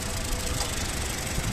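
A high-mileage Honda Insight's 3-cylinder engine idles steadily, a faint, even hum with a light ticking texture and no talk over it.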